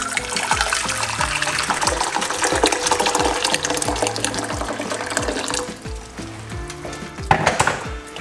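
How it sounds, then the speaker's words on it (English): Hot water poured from a kettle into a cooking pot to make pineapple skin tea, a steady close splashing stream that thins out near the end. "we're going to pour hot water"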